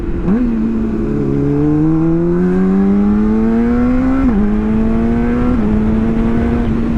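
Up close, a vehicle accelerates and its engine tone climbs steadily. Quick-shifter gear changes break the rise with two or three abrupt dips in pitch, and the engine stays loud and continuous throughout, with no voices.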